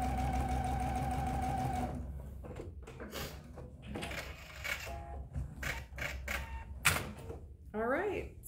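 A sewing machine runs in a steady, fast stitching whir while sewing a gentle curved edge, then stops after about two seconds. A person speaks after it stops, and there are small clicks and handling noises.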